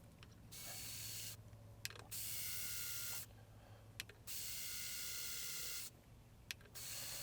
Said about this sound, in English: I'm just grabbing them here with the drill to suck them through.